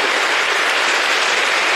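A large seated audience claps together in dense, sustained applause, loud and steady throughout with no voices over it.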